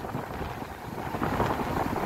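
Wind buffets the microphone while riding a Skygo Lance 150 motorcycle along a cool, tree-lined road, a dense, steady roar that rises slightly toward the end, with no voices.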